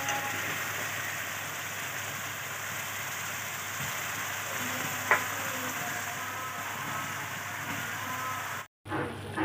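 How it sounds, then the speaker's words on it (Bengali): Onions fry in a pan with turmeric and ginger paste, making a steady, even sizzle that runs throughout at moderate level, broken by one small tap and a brief dropout near the end. "পেঁয়াজটা ভাজা ভাজা হয়ে গেছে দেখুন।"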